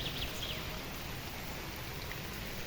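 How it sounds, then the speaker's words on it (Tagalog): Heavy rain pours down steadily in a mountain setting, a dense, even hiss of falling water that fills the whole stretch at moderate level, with no voices. "ang ulan dito, lakas ng ulan"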